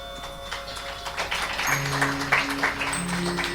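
Audience clapping at a Sai Amrit Katha religious discourse, a continuous crowd of hands building through the clip, with sustained musical tones humming underneath and no clear speech.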